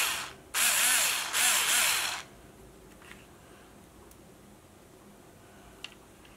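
A Bosch IXO cordless electric screwdriver whirs in two close, loud bursts lasting under two seconds in all, then cuts out, leaving a quiet room with a couple of faint ticks.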